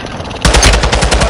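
Rapid automatic gunfire from the video game Warzone 2.0 erupts loudly after a brief lull, a dense rattling burst of shots that continues to the end.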